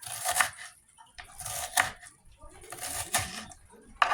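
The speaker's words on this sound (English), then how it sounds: "I got my onion cut down" A knife chops an onion on a cutting board in several separate bursts of quick, crisp cuts, close up and moderately loud, with a pause between each burst.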